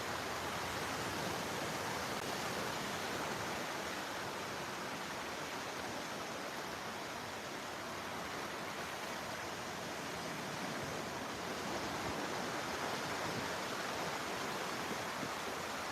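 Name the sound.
ocean waves on the beach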